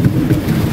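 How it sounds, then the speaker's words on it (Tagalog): Steady rain with a low rumble of thunder rolling underneath during a typhoon in Masbate, close and fairly loud, no voices. "So kulog, kidlat at ulan pa lang po yung nararamdaman natin."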